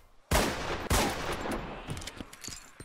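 Gunfire in the DayZ video game while fighting zombies: two loud, sharp shots in quick succession ring out with a long reverberant tail, followed by fainter scattered clicks and shuffling.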